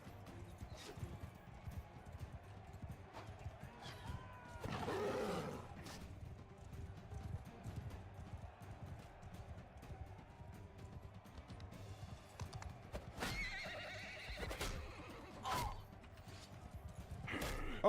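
Hooves clip-clop in the game Tales from the Age of Man, with horses galloping and neighing in bursts amid combat clashes, and a voice talks intermittently over it.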